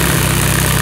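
Car engine just fired up and running, a loud close steady idle with a low rhythmic throb, no voices.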